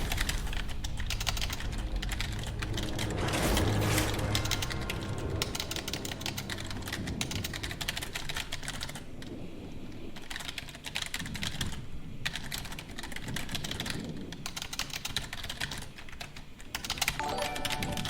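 Rapid, continuous clatter of a computer keyboard being typed on as fast as possible during a Hearthstone arena session, dense close-up clicks with no talking.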